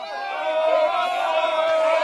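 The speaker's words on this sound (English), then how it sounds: "Well, that's the crowd right there" Spectators at a Division 1 men's MCLA lacrosse game between Colorado and Brigham Young roar and whoop together in a sustained, swelling cheer that carries on unbroken, heard from a distance.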